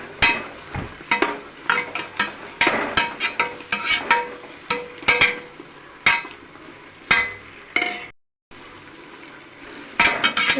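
Mint and coriander sautéing in a pan for chicken biryani, with a low sizzle under repeated close spatula scrapes and stirring clatters and one brief silent gap.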